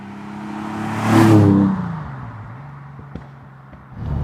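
A TVR Tuscan S sports car passes at a gentle, unhurried speed. Its engine note swells to a loud peak as it goes by close up, then fades to a low steady drone before it rises again at the end.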